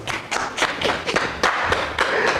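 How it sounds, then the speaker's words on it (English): Handclapping from a small group of people, loud, close and irregular, with distinct sharp claps in uneven rhythm across the whole stretch. "A round of applause for our sponsor."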